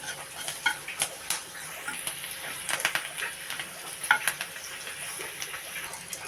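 A small amount of Kashmiri chili powder sizzles in hot oil in a pan, giving a close, crackling fry broken by clinks and scrapes as a utensil stirs it.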